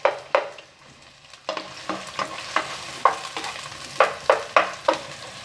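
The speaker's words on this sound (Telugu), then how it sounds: "ఫస్ట్ పచ్చిమిరపకాయలు, ఆనియన్స్ వేసుకొని ఫ్రై చేస్తున్నానండి." Green chillies and onions fry in oil in a pan for street-style egg fried rice, a steady sizzle broken by a run of sharp, evenly spaced scraping strokes from stirring, close and clear with no talk.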